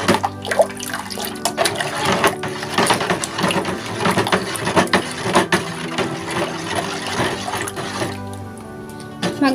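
Buko pandan salad mixture of coconut and creamy dressing being stirred continuously in a bowl, giving wet, squelching churning and soft clattering at close range, fairly loud and without talk.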